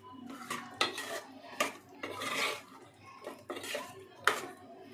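Chicken with chili powder is stirred and fried in a pan, with repeated metallic scrapes and clinks of a utensil against the pan in uneven bursts, close by and fairly quiet.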